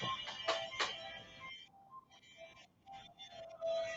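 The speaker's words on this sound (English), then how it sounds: "Why do I hear my phone?" Phone ringing in a room: a chiming electronic ringtone with bright tonal bursts, then quieter repeated tones, moderately faint and steady for several seconds, with no talk over it.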